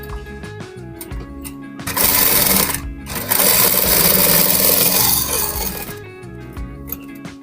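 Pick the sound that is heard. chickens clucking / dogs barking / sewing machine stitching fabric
sewing machine stitching fabric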